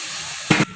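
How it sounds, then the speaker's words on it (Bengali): A small splash of water hits chal kumro (ash gourd) greens sautéing in a hot pan, giving a brief loud sizzling hiss of about a fifth of a second that quickly fades back to a low simmer. "এবার আমি অল্প করে জল দিয়ে দেবো"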